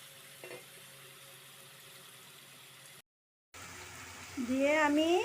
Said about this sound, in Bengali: এটা এইভাবে ভালো করে একটু নাড়াছাড়া করব